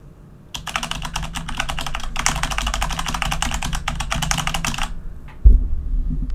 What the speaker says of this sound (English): So if I shut up, you'll be able to hear probably the PC fans, and then I'll hit some keystrokes